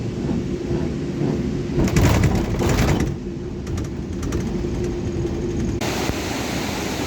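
Rushing water of the Narmada river at Bhedaghat near Jabalpur, a loud steady roar close by with a brief swell partway through.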